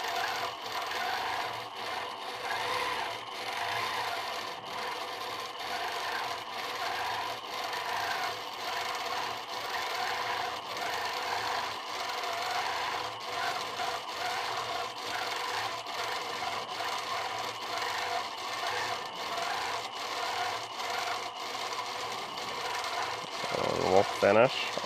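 A sewing machine stitches a free-form design in a steady, rapid, continuous whir, running throughout with a faint voice underneath.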